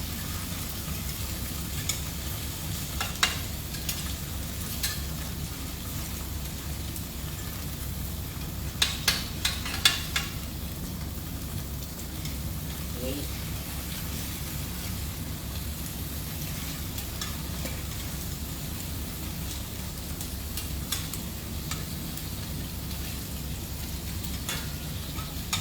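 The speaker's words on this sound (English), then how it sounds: "we are merely using the residual heat to pan fry the other side of our tofu" Tofu pan-frying in an AMC pan on residual heat gives a steady, soft sizzle throughout, with occasional light clicks and taps of utensils near the start and middle.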